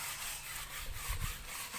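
Rhythmic scraping strokes as workers wet sand a boat hull's bottom in a boatyard at Kilifi, Kenya, rubbing back and forth at a moderate distance, a steady sanding motion with no voices.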